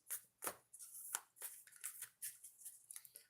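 Tarot cards are riffled and shuffled in a series of quick crisp flutters and taps, close and quiet, with no talking.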